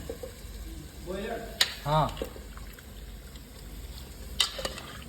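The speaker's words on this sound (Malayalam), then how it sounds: "ചിക്കൻ ഇട്ട് ഇളക്കാൻ പോവാണ്." Chicken going into a pan for a curry and stirred, a soft sizzle and scraping stir under a low, steady background, with a voice talking briefly partway through.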